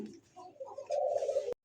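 Pigeons coo in a short close-up burst, a soft low throaty call swelling into a steadier sustained coo before stopping abruptly, with faint chirpy bird noise around it.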